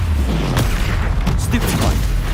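Confringo, a fiery explosive spell cast in combat in Hogwarts Legacy, lands as a loud, deep boom with crackling blasts and rumbling impacts packed into a couple of seconds.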